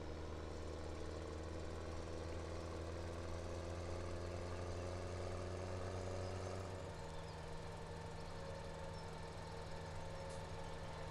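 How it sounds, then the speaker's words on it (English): A combine harvester engine running in a farming video game, a steady low drone and hum that shifts pitch partway through, continuous and alone without talk. "Engine on."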